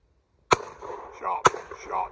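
Two sharp shotgun blasts about a second apart ring out at high driven game birds on a shoot, each followed by a fading outdoor echo, with voices talking in the background.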